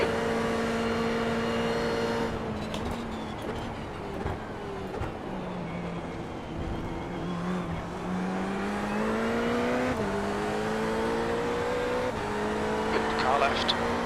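A GT3 race car's engine drones steadily in iRacing at Monza, pitch rising and falling through gear changes as another car runs alongside, continuous and moderately loud throughout.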